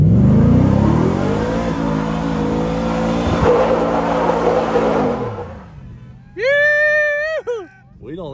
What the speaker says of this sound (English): I feel like I gotta do a burnout.